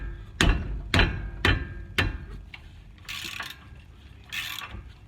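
A hammer smacks a stuck brake caliper bolt on a 2007 Mustang GT, four sharp metallic blows in an even rhythm, followed by a couple of softer scraping clanks.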